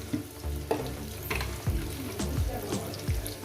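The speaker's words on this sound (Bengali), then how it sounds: "এটাকে আমি চার পাঁচ মিনিট আলুটাকে আমি ভেজে নেব" Potato pieces frying in oil in a pan, a steady close sizzle with repeated scraping and stirring strokes of a spatula, no voices.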